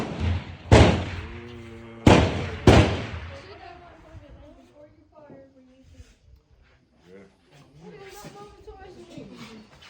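Three sharp, loud AR pistol gunshots fired outdoors, two close together and one after a pause, each booming with a short echo, followed by people talking.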